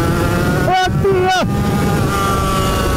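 A Suzuki RGV 250 two-stroke twin-cylinder motorcycle engine of 62 horsepower revs loudly up close, with two quick rising throttle blips over a constant buzzing idle.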